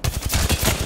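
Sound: gunshots at enemy shield in video game Apex Legends

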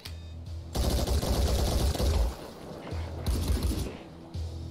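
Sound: gunshot in the video game Phoenix Point

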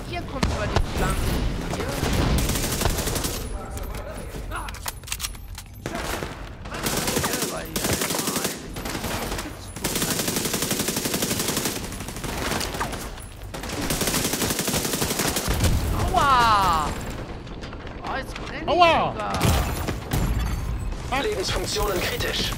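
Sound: gunfire in the video game The Division 2

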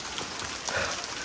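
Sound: heavy rain falling

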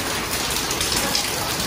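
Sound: rain falling

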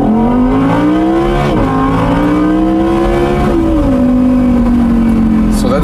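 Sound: Audi R8 Spyder V10 engine accelerating in normal mode

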